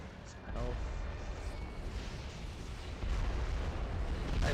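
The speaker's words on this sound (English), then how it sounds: "Repta's got a special grenade launcher that shoots a whole bunch of grenades at once" Rapid grenade launcher bursts and rocket explosions in Red Faction on PS2, a dense, loud rumbling roar of overlapping booms that swells and stays heavy throughout.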